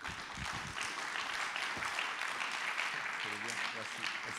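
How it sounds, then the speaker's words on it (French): Audience applause at a healthcare conference keynote on palliative care, a steady broadband patter of many hands lasting throughout, with voices talking over it near the end. "Sous vos applaudissements, s'il vous plaît."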